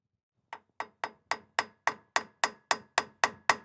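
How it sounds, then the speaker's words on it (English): A hammer taps a new grease-packed bearing into a Dynatrac ball joint housing for a Jeep JL/JT steering rebuild, giving about twelve sharp, evenly spaced metallic strikes that grow slightly louder, close up with no talking. "grab a hammer, tap that up in there."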